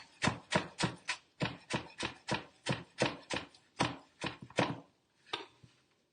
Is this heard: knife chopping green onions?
yes